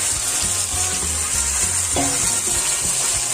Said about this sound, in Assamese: ইয়াতে মই এতিয়া এই মেৰিনেট কৰি থোৱা মাংসখিনি দি দিম।